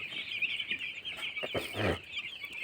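Young broiler chicks, six days old, on a poultry farm, giving a steady high chorus of peeping and clucking with a few louder nearby calls, no talking.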